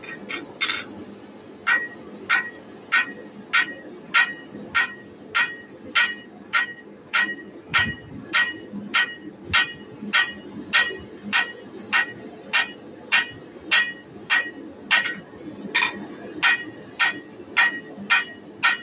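A blade is hammered during a live forging session, with evenly spaced, sharp metallic hammer strikes ringing close and loud at a steady rhythm, roughly one blow per half-second, alone without talk.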